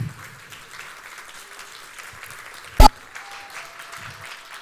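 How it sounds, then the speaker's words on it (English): An audience at a Dreamers Academy victory event applauds steadily with a dense patter of clapping, broken by one sharp loud thump near the middle. "Another round of applause, another round of applause. Keep it going."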